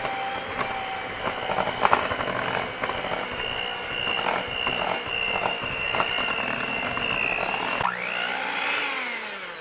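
Electric mixer beating thick Neiman Marcus cake batter of cake mix, eggs and melted butter, a continuous close whirring motor hum with rattling, shifting pitch just before the end.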